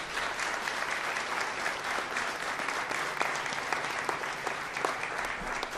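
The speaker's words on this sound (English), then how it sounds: "Let's give him a round of applause for your awesome efforts." An audience at a Florida governor's bill-signing event applauds a state trooper who rescued a dog, with dense, steady clapping from many people that carries evenly throughout.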